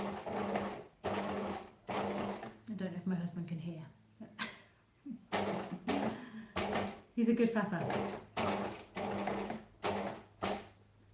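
A sewing machine stitches a pocket in short repeated bursts of rapid mechanical chatter with brief pauses between runs, while someone talks nearby.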